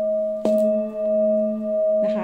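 A 9-inch Full Moon singing bowl weighing 1,910 grams is struck with a drumstick, giving a sharp hit that leaves a steady, ringing sustained tone with a faint shimmer; a second light touch comes near the end.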